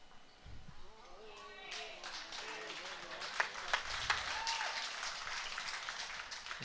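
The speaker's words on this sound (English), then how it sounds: "there's some cheering on the other green there." Spectators cheer and clap from a neighbouring green during a bowls pairs final at the Victorian Open, the crowd noise moderately distant, with a few sharper claps standing out and nearby voices talking over it.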